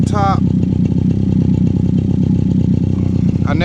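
A Suzuki 50cc quad engine idles steadily and evenly after a carburetor rebuild, a loud close rhythmic putter throughout, with a voice speaking briefly over it at the start and end.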